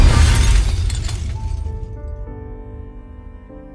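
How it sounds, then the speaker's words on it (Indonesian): A drinking glass drops and shatters, a loud crash followed by ringing tinkles of shards that fade over several seconds. "Suara pecahan gelas itu langsung mengalihkan Andromalius."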